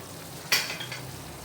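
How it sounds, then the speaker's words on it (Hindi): Mango chicken chilli in a pan on full heat gives a short burst of frying sizzle and a stirring scrape, close and loud, then settles to a low steady hiss. "अब मैं आंच थोड़ी और बढ़ा दूंगी, फुल कर रही हूँ, ताकि ये अच्छी तरह से फ्राई होने पे आ जाए।"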